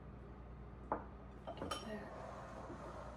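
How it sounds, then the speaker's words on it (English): Thick Mississippi mud cake batter being whisked in a bowl, giving soft scraping strokes and a few sharp metallic clinks of the whisk against the bowl's side, fairly close and quiet. "It's getting harder to whisk."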